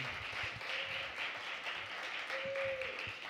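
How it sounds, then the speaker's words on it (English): A live audience applauds the members of a jazz group, a continuous wash of clapping with faint sustained tones sounding through it. "Give them a round of applause"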